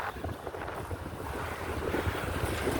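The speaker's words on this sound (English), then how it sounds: "Really windy." Wind buffets the microphone during a bike ride, a loud, dense, constant rumbling roar that fills the whole short stretch with no other sound clear.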